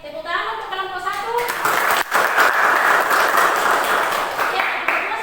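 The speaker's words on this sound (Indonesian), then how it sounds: "Tepuk tangan untuk kelompok 1" Classroom applause for a student group after their answers: a broad, fairly loud wash of clapping from a small crowd that swells and holds steady, with voices mixed in near the start.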